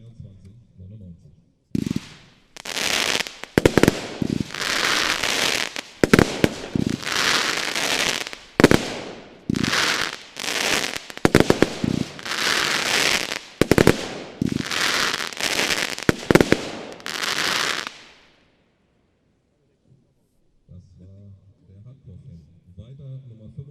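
Nordlicht Hardcore-Fan 25 mm, 36-shot firework battery fires outdoors in a rapid run of loud bangs and crackles over about sixteen seconds, then stops; voices talk briefly before and after.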